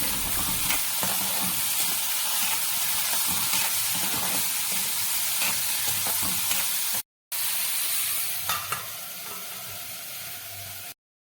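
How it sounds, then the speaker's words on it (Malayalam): Bitter gourd and salt are stirred in a hot pan for a pavakka curry, giving a steady close sizzle and hiss with scraping strokes throughout. A short break comes near the end. "അതിലേക്ക് പാവയ്ക്കയും ആവശ്യമായ ഉപ്പും ചേർത്ത് മിക്സ് ചെയ്തതിന് ശേഷം മൂടി വെച്ച് വേവിക്കാം"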